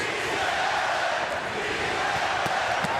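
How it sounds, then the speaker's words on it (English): Boxing arena crowd at a Pacquiao vs. Marquez lightweight title fight chanting "Sí se puede," a dense, steady roar of many voices filling the hall with a few sharp accents near the end. "Crowd chanting "Si se puede.""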